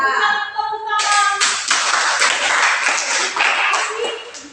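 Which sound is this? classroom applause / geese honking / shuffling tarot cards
classroom applause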